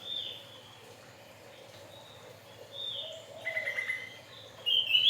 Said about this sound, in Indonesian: Pleci bukan mas, ini opior Jawa mas. Opior Jawa, kalau di Garut dibilangnya cucak jempol nih.